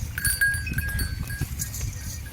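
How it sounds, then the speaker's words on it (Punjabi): Goats bleat in short, wavering calls against a noisy outdoor background at a goat farm, with a faint tinkling like small bells. "ਦੱਸ ਬਈ ਰਾਜੂ ਇਹਨਾਂ ਦੀ ਬੱਕਰੀਆਂ ਬਾਰੇ ਇਹ ਬੱਕਰੀਆਂ ਦੀ ਕੁਆਲਿਟੀ"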